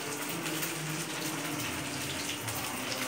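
Bora fritters frying in oil in a pan over low gas, a dense, steady sizzle and bubbling hiss close up, continuous throughout with no talk.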